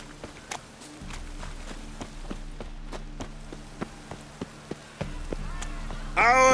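Steady rain patters in a video game, The Witcher 3, with footsteps tapping across a wet surface over a low droning hum, and a brighter burst of sound at the very end.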